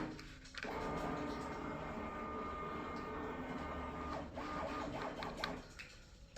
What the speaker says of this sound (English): if I press this button, robotically move the CNC and not actually be anywhere near it